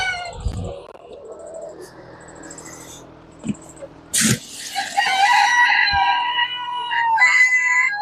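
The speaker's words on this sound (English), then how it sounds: "After we feed the chickens here" A few soft clucks, then a rooster crows loudly and long, followed by more crowing overlapping it, with faint scratchy sounds in between.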